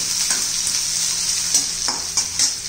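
Leftover chapati noodles sizzle steadily as they are sautéed and stirred in a pan, with occasional scraping strokes of a spatula close by and no voices.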